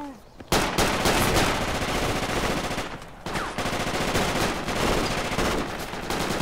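Gunfight in the combat game Project Reality: dense, loud automatic rifle and machine-gun bursts overlapping almost continuously, with a brief lull before the shooting resumes, close and dominant throughout.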